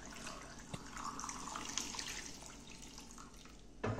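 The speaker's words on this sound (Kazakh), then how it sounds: "Бөлме температурасындағы суды құйып шығамыз" Room-temperature water pours steadily over potatoes in a cooking pot for Russian-style country potatoes, a continuous close splashing with a brief clink near the end and no talk.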